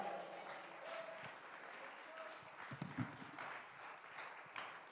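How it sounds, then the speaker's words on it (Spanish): Congregation applauding for the Lord during a Spanish-language church sermon, a steady wash of clapping from many hands filling the room, with voices mixed in. "Dale un aplauso al Señor."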